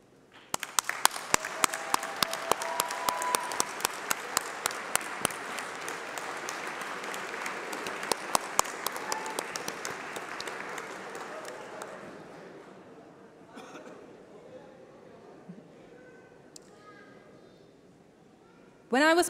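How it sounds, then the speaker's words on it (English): Sustained audience applause at a UCLan university graduation ceremony, a dense wash of clapping with sharp individual claps, loud for about twelve seconds and then tapering into scattered claps and murmuring before a final burst. "please can I ask you to stand up while we give you a round of applause"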